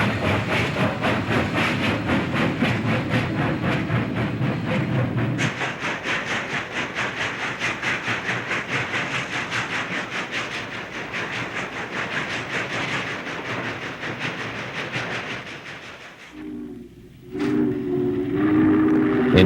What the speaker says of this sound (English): shot the trains as they passed during the day